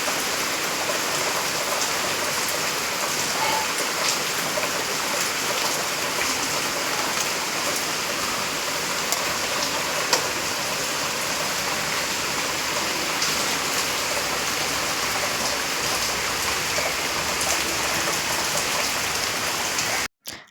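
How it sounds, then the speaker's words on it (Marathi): Steady, dense rain pours down throughout on an Ashadhi Ekadashi day, an even continuous hiss of drops on surfaces that stays loud and unbroken before cutting off abruptly at the very end. "सो पूर्ण दिवसभर पाऊस होता."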